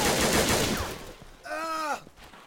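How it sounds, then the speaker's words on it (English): Gunfire from the survival video game DayZ Overpoch: a dense burst of rapid shots at the start, then a tonal whine and a fainter, sparser crackle later on. "Someone's shooting at me."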